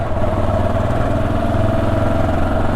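A Yamaha XT500 motorcycle engine thrums steadily while riding, a loud, close single-cylinder pulse with a low, even throb and no talking.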